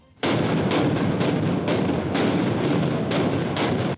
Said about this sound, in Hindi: पूरा इलाका धमाकों की आवाज से गूंज उठा